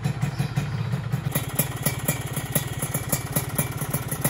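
A modified Yamaha RX King motorcycle engine idles nearby in a steady, even, rapid pulsing putter, loud and alone with a faint rattle on top.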